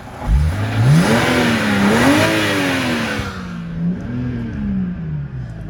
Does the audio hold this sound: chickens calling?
no